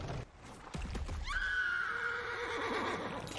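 A horse whinnies loudly in a fantasy TV drama, a rising then long wavering neigh lasting about two seconds after some brief low thuds and rustle.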